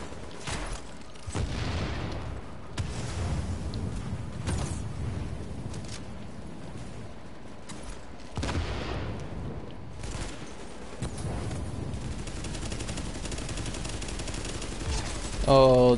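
AK assault rifle fire in The Division, sustained bursts of shots crackling across a busy, noisy battle soundscape, with heavy booms now and then and a voice talking over it.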